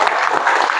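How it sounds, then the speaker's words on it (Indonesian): Students in a classroom applaud together, a short, loud burst of dense clapping with no voices. "Kasih tepuk tangan dong buat Saira."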